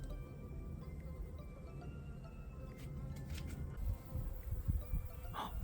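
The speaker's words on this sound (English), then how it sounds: "we actually had a blue banded bee checking out the new houses." A blue banded bee buzzes around newly made bee houses in a garden, a faint, steady insect hum close by with some soft handling noise.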